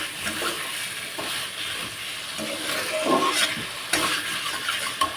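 Vegetables and cut stems sauté in a pan, a close continuous sizzle broken by scraping stirs and a few louder clattering bursts toward the end, with no talk.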